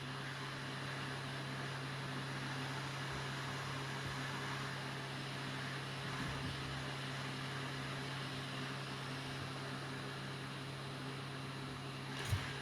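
A hot air rework station blows steadily at 50% airflow while heating a Nintendo Switch Lite circuit board from underneath, a constant close-up hiss and hum with a low tonal drone throughout.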